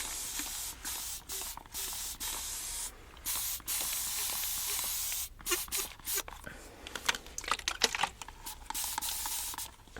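A water spray bottle wets hair close up, giving a series of short, crisp hissing spritzes of uneven spacing, some quick and clustered, with no talk over them.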